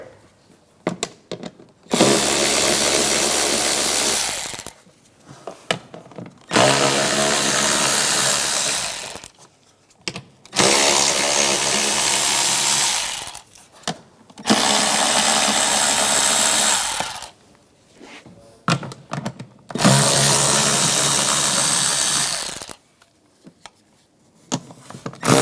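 On a 2009–2013 BMW 328i xDrive, a power tool with an 8mm socket spins out the engine cover bolts in five loud bursts of about two to three seconds each, with short pauses between them and faint clicks and handling noise in the gaps.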